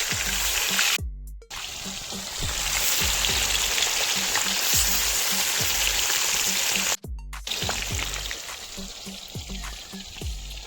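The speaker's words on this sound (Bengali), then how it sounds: "মাছগুলো আমি একটা একটা করে তেলের মধ্যে ছেড়ে দেবো।" Pieces of katla fish are dropped into hot oil and crackle and sizzle loudly, with brief quiet gaps where the sizzling dips before surging again, close and continuous with no speech.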